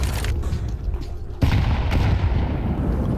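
Grenades go off during a professional Counter-Strike match in the ESL Pro League. A sudden heavy boom is followed by a second blast, then a rolling rumble and scattered gunfire, with no speech over it.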